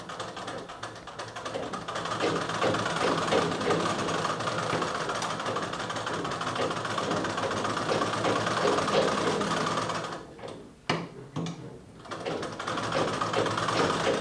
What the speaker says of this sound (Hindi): अगर चाहो यहाँ पर डायरेक्ट इस प्रकार से सिलाई लगाओ